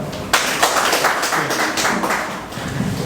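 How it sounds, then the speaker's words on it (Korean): An audience at a Korean forum applauds to welcome a speaker to the stage, with steady, dense clapping from a crowd that continues throughout at moderate volume. "박수로 모시겠습니다."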